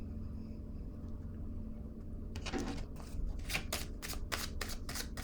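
Tarot cards being shuffled by hand in a quiet room, with a run of rapid riffling bursts starting about halfway through and repeating in quick rhythmic flicks, close and clear.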